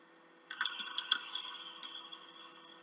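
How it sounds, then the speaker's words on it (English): A short burst of keyboard typing, a quick run of light clicks that fades out, heard in a quiet room during an evening Python coding session. "Someone's typing."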